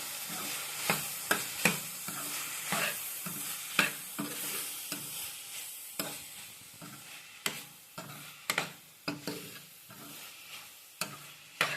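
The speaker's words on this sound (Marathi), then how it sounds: "सगळे मसाले व्यवस्थित मिक्स करून घ्यायचे भाजीमध्ये" Spices stirred into a cluster bean (gavar) curry with coconut in a pan, a soft low sizzle broken by repeated sharp scrapes and knocks of the spoon against the pan, close but quiet.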